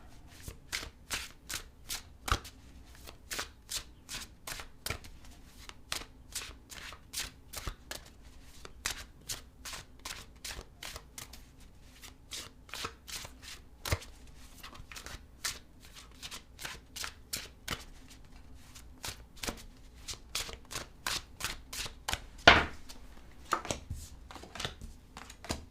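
A tarot deck is shuffled by hand over and over, producing a long run of crisp, closely spaced card riffles and slaps in a quiet room, with no speech.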